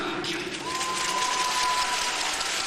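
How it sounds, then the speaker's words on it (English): Home fans at a short track speed skating World Cup in Montreal cheering and applauding a local skater, a broad sustained roar of clapping and shouts with a commentator's voice faintly underneath. "Francois Emelin getting the expected big round of cheer from the local fans here at Montreal."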